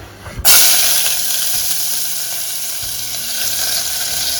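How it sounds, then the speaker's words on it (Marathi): Chopped onion dropped into hot oil for a Konkani dish, a sharp sizzle bursting in after a brief quiet start and settling into a steady, close frying hiss. "ते तेल मी तापत ठेवलं आहे आता त्याच्यामध्ये कांदा घालते"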